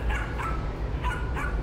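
A Belgian Malinois at a puppy seller's kennel barks several times in short, spaced bursts, close and loud over a steady background hum.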